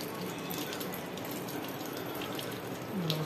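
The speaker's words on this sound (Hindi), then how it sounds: "नल से पानी लिया" Water runs steadily from a household tap beside a newly installed six-stage RO plant, a continuous close splashing hiss with no talk over it.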